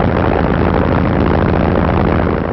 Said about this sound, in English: With engines warmed up and raring to go